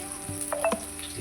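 Spices dropped into hot oil for a Maharashtrian chicken rassa, a soft sizzle with a few sharp clinks and taps of a spoon against the pan, close and quiet.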